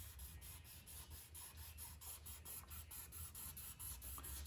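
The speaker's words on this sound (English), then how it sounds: "I'm going to sand this" A piece is sanded flat by hand, giving a quiet, rhythmic back-and-forth rasping scrape repeated steadily at close range with no talking.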